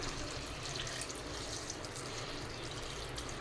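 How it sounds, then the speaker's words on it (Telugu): Steady hiss of water pouring into a pan of curry, continuous and fairly quiet, with no talking. "కూరకు సరిపడా వాటర్ అయితే వేసుకుందాం ఇప్పుడు"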